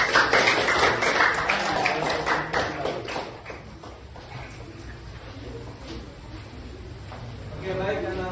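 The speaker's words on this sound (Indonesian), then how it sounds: "Tepuk tangan semuanya." A class of students claps hands together, a loud burst of scattered clapping that thins out after a few seconds while voices murmur underneath.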